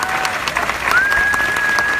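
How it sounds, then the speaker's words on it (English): Graduation ceremony crowd at a law school commencement applauding in a dense, steady wash of clapping, with a faint whistle-like tone running through. "Let's give a round of applause to the parents and people in our lives who sacrificed so we could be here today graduating."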